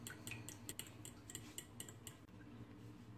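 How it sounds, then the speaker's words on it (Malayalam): Eggs, buttermilk and vegetable oil being mixed in a bowl for red velvet cupcake batter: quick, close metallic clinks and taps of a utensil against the bowl in an uneven rhythm, then a softer stir at the end. "3 മുട്ട ഇതെല്ലാം ഈ ബൗളിൽ ഇട്ടിട്ട് നന്നായി മിക്സ് ചെയ്തെടുക്കാം"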